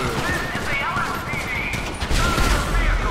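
Rapid gunfire pelts the bulletproof glass of an armored car in GTA 5, a loud, continuous rattle of shots and impacts that swells near the end, with talk over it.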